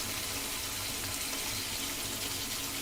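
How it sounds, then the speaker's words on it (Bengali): Water poured into a pot of well-browned chicken for a village-style home chicken curry, a steady, continuous splashing pour heard close and alone without any talking. "এবারে আমরা পানি দিয়ে দিব মাংসটাকে সেদ্ধ হওয়ার জন্য"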